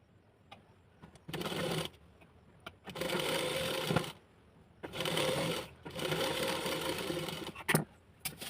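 A sewing machine stitches a plain blouse seam in several close bursts of rapid whirring, each run a few seconds long, separated by short pauses with faint clicks and handling sounds.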